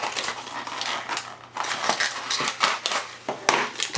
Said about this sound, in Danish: Der gemmer så også en lille manual, som jeg fik revet i stykker her.